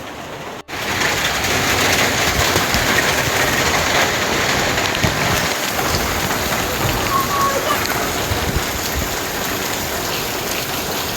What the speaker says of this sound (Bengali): এখন চরম বৃষ্টি পড়ছে বাইরে